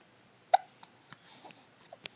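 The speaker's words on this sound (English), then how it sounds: "You have the hiccups?" A small child hiccups, one sharp clear hiccup followed by a few softer, fainter catches spaced over about two seconds, close to the microphone with no talking.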